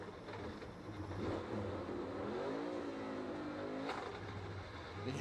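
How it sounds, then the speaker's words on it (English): A NASCAR race car engine at Kansas revs up and down in rising and falling sweeps, loud and close, with a couple of sharp clunks as it is shoved into first gear with a failing clutch. "he revved the engine up and just shoved it as hard as he could into first gear"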